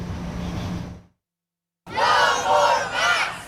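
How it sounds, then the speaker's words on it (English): A crowd of parents chants loudly in unison outside a Huntsville City Schools board meeting over masking. The rhythmic, voiced chanting breaks off briefly into near silence, then resumes. "Many joined the crowd gathering before the Huntsville City Schools Board of Education meeting, holding signs and chanting"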